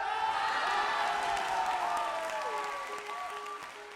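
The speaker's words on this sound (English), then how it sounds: "I would like to very quickly give this firefighter a round of applause" A studio audience gives a round of applause, steady dense clapping that gradually fades, with a faint tonal sound running underneath.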